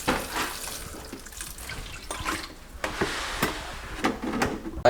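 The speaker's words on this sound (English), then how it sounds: "now I will show you how much I'm gonna water this plant" Water pours from a can or hose into the soil of a potted tropical fruit plant, a steady splashing with a few sharper knocks and drips near the end.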